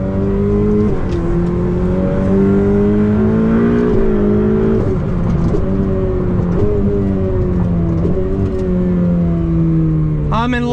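A Ferrari 488 Pista's engine drones loudly from inside the cabin while driving, its pitch climbing and dropping in a series of rev swells with gear changes, and a brief sharper burst near the end.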